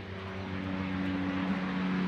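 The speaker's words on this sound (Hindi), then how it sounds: "हेलीकॉप्टर आ रहा है" Helicopter passing overhead, a steady, droning engine rumble with a low tonal whine that holds even and moderately loud throughout, with no voices.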